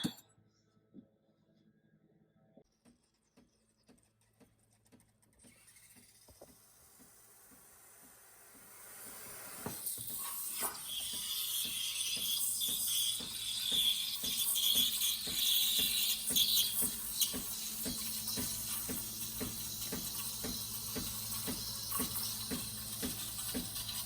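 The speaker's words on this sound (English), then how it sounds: "I have to steam the milk next" Milk is steamed with an espresso machine wand for a red velvet latte, starting with quiet clinks and handling, then a loud, steady high hiss that continues on its own for the rest of the clip.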